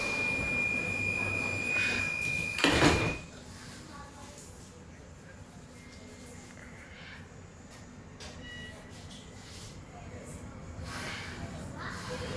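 Bucharest M2 subway train doors closing: a sharp electronic warning tone ends in a brief loud clunk, then steady rumbling train noise continues underneath.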